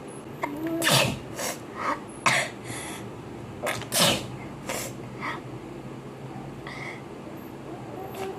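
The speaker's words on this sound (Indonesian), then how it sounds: "Gila bersin terus guys." Several loud sneezes burst out in an irregular series, some close together and others spaced apart, with quieter throat noises and faint breathing between them.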